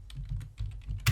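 Brief, quick typing on a computer keyboard while naming a layer in CAD-CAM software, a handful of close, soft key clicks finishing with a firmer tap.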